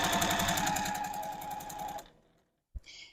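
A sewing machine stitching quilt block pieces in a fast, even mechanical chatter for about two seconds, then stopping, followed by a brief click and faint handling noise.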